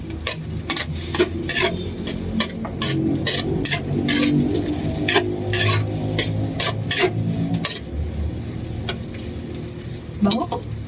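Garlic and onion sauté in a hot pan for a Filipino ginisang repolyo with ground meat, a steady sizzle broken by frequent sharp scraping stirs of a utensil against the pan, close and loud.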